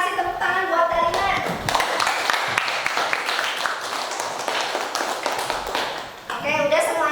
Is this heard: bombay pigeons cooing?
no